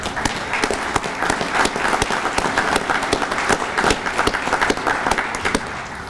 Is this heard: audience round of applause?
yes